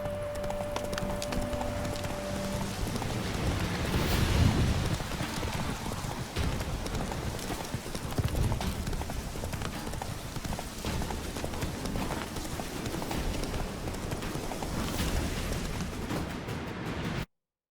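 Roach, a horse in The Witcher 3, gallops along in a steady drumming run of hooves, with a broad rushing noise like rain or wind and a few heavier thuds, running unbroken with no talking.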